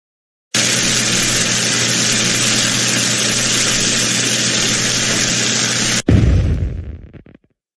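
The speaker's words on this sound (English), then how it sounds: "We blew the biggest firework in the whole motherfucking world!" A huge firework in a cartoon scene: a loud, sustained roaring rush cuts off abruptly into a deep booming blast that rumbles and fades away.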